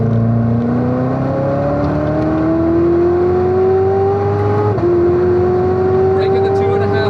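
A Corvette C7 ZR1 accelerates hard on a race track, its engine note rising steadily through the revs, then dipping briefly at an upshift and climbing again, loud and close throughout.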